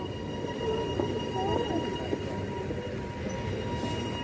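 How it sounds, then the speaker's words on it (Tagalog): Train pulling into a station platform, a steady rumble of rail cars with a few faint wheel squeals and clicks, continuous and fairly near, with a voice briefly under it. "Okay, here's the train."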